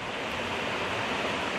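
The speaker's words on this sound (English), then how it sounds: "How fast that water is ripping under that bridge." Fast springtime snowmelt runoff roars under a fairly new bridge as a steady, dense broadband rush of water, loud and continuous, with no voices over it.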